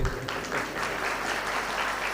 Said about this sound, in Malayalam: എല്ലാവരും ഒന്ന് അദ്ദേഹത്തിന് കൈയടിക്കാം.